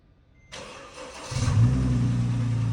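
A Mercedes 211 with a clogged catalytic converter cranks briefly and fires, its engine catching and settling into a loud, steady idle close by.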